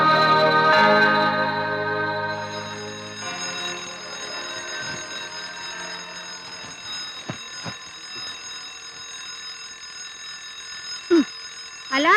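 An alarm rings loudly in a scene from a Malayalam horror film. It opens with a bright, layered tonal ringing that slowly fades over about twelve seconds, followed by a few short knocks near the end.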